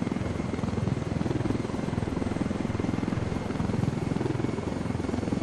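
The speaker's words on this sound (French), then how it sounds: "Allez, on pose l'hélico et après ça on coupe." Helicopter in Ghost Recon Wildlands gives a constant, loud rotor chop with a dense engine roar, steady throughout without speech.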